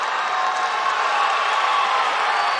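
Steady roar of a judo arena crowd at a Grand Slam event in Baku, cheering and applauding with the audience on its feet, loud and continuous with no pauses.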